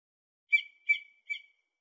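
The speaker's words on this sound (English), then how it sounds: "I have a bird I like to hold." Three short, bright bird chirps spaced evenly apart, each clear and isolated against silence, from a bird in a Dr. Seuss children's app.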